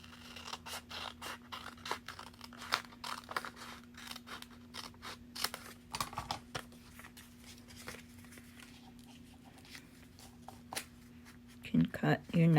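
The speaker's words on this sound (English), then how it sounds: "then we fold them together in half, burnish it down, cut them on where we folded them" Paper pocket pieces are folded in half, burnished flat and cut along the fold, giving a run of crisp, close scissor snips and scraping strokes over a low steady hum, with handling noise and a voice near the end.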